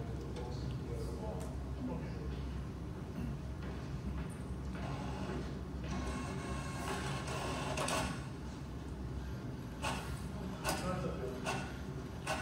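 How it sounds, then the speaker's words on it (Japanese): An Epson printer at work during a live demo, steady mechanical whirring and rhythmic clicking and feeding sounds running throughout, with people talking over it in a room. "エプソンプリンターで印刷します"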